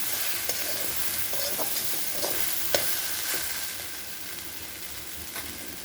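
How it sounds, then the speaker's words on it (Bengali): Gourd peel frying in a pan and being stirred, a steady close sizzle with scattered scraping clinks of the spatula against the pan. "ঢাকাটা খুলে আবার নেড়ে ফিরে দেবো"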